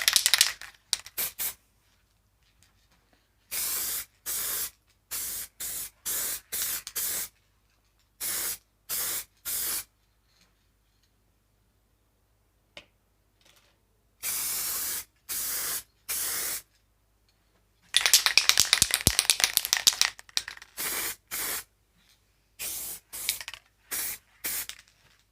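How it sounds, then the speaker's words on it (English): Spray can bursts of paint coating a 3D-printed farm model, a series of loud close hissing sprays of varying length separated by silent pauses, with one longer sputtering burst near the end. "But I'll get this painted."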